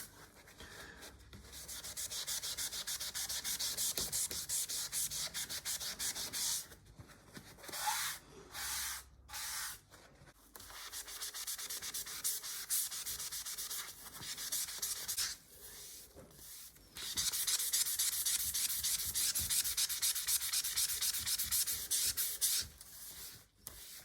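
Scuffed paint on a Cybex Balios stroller frame being rubbed clean, dense scratchy rubbing strokes in sustained bursts separated by short pauses, close and fairly loud with no talking.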